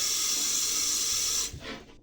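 Tap water pours in a kitchen while pizza dough is being prepared, a loud steady rushing hiss that cuts off after about a second and a half, leaving faint splashes.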